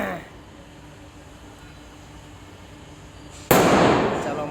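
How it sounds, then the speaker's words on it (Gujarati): Diwali firecrackers burst outside a company premises, with a sudden loud blast near the end that breaks a long stretch of quiet, hissing background. "બોમ્બ ફોડ્યા રાખો, મોજ કરો."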